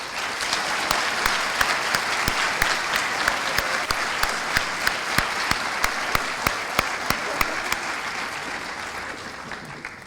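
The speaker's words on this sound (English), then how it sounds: "let's give all our recipients one more round of applause." A community foundation scholarship recognition audience gives recipients a sustained round of applause, dense steady clapping over ten seconds with a few sharp, distinct claps standing out near the microphone.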